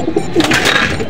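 A racing pigeon that is moulting and has lost its tail gives a short, soft coo close up, a brief burbling call with no other sounds around it.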